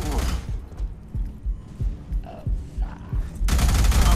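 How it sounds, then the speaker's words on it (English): Enemy gunfire in the video game Alien Rage: loud bursts of rapid shots at the start and end, with thudding impacts and scattered shots in between. "He's going to jump out. He's going to shoot at me."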